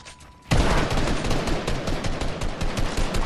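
Gunfire in the video game Fortnite erupts after a brief quiet moment into a loud, sustained rapid volley of shots that continues without pause.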